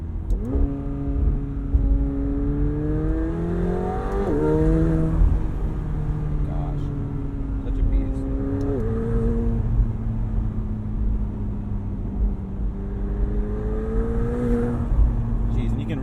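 A 2020 McLaren 720S Spider convertible's turbocharged engine revs and accelerates with rising and falling pitch, steady and fairly loud throughout, with a faint turbo whirring edge over the drone.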